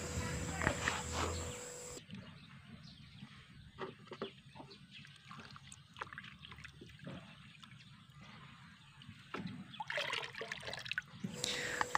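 Homemade liquid organic fertilizer poured out in two measures, a soft trickling, splashing stream heard close, with insect chirps and a hum in the background.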